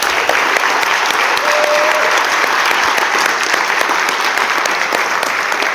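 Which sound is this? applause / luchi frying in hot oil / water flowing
applause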